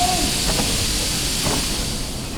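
Constant broad hiss of a steam system in the Metro Awakening video game, a steady loud rush filling the whole clip with a couple of faint soft bumps underneath.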